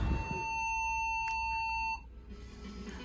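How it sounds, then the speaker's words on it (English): An alarm system test aboard the Disney Fantasy cruise ship gives one sustained electronic beep tone, clear and fairly loud, for about two seconds before it cuts off and leaves faint room noise. "Welcome to testing of the alarm system."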